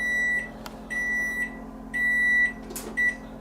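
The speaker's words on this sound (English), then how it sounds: "that beeping was my 1 hour." An oven timer beeps four times in long, evenly spaced tones over a low background hum, with a couple of faint clicks in between, while a cast iron æbleskiver pan is re-seasoned in the oven.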